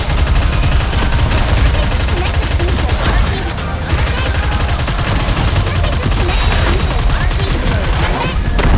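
Dense, loud gunfire from Nikke: Goddess of Victory hammers on continuously in rapid automatic bursts, with a brief dip midway, all close and overwhelming.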